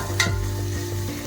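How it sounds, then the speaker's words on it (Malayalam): Biryani ingredients are stirred in a pan over a steady frying hiss, with one sharp scrape of the spoon near the start and quieter strokes after. No one speaks. "നല്ല രീതിയിലൊന്ന് ഇളക്കി കൊടുക്കണം."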